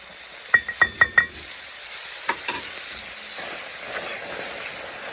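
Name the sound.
flour stirred and cooking in a pan for cheese sauce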